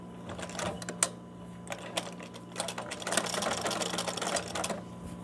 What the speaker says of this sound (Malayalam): അത് ഇവിടെ വെച്ചിട്ട് സ്റ്റിച്ച് ചെയ്യാം.